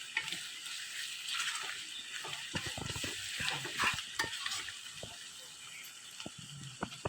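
Fish frying in a pan for a gravy fish fry, a steady hiss of sizzling oil with scattered clinks and scrapes of stirring.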